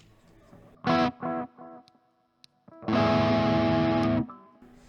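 A distorted electric guitar through a Keeley Caverns delay reverb pedal plays chords in short bursts, then one long sustained strum that rings and trails off, thick with echo and ambience.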